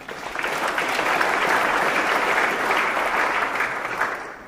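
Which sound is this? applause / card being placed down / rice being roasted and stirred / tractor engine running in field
applause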